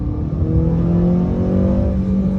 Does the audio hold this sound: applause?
no